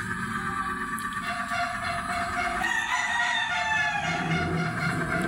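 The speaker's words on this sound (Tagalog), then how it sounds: "Yung mga manok hindi sa atin yan, sa kapitbayan." A rooster from a neighbor's flock crows repeatedly in long, wavering calls, with hens clucking around it over a constant low rumble of background noise.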